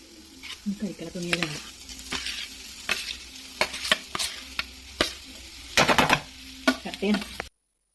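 A spoon or spatula scrapes and stirs mashed potato into masala frying in a pan for aloo paratha filling, with irregular close clatters and soft sizzling between them.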